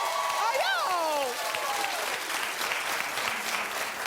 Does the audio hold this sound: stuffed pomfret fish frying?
no